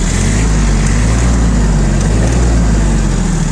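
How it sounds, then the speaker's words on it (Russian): A Hinomoto CX16 four-wheel-drive tractor's engine runs loud and close, a steady unbroken drone with no voices over it. "Думаю, слышно, что двигатель отлично работает,"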